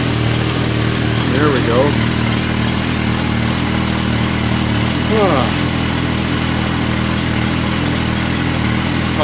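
Suzuki Bandit 1250 motorcycle engine idling steadily close by with a constant low hum throughout, while someone speaks briefly over it.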